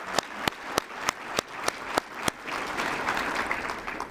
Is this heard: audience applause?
yes